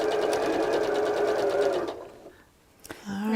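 A sewing machine runs steadily up close as it stitches a quarter-inch seam on quilt pieces, then stops, leaving a brief near-silence before a faint clatter.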